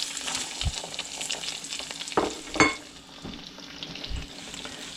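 Food sizzles and fries in a pan over medium heat with a steady crackling hiss, broken by a few sharp clicks and scrapes as it is stirred or shifted, close by.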